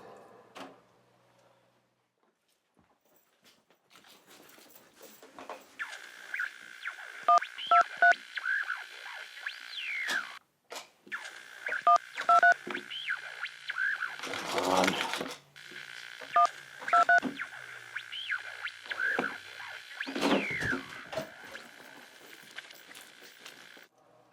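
DTMF telephone dialing tones in repeated bursts of beeps, mixed with other sounds and faint background noise, on a phone that turns out to be dead.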